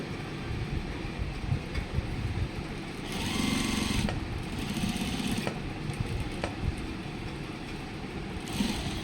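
Sewing machine stitching a trouser pocket, a continuous close mechanical whir with brief louder surges, no speech over it.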